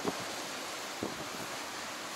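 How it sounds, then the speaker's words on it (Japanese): Rough, choppy sea waves in the Kanmon Strait on a cold, windy day, a continuous broad wash of water with two brief sharp splashes and wind noise on the microphone. "しばらくどうぞ波荒れた海をどうぞ。"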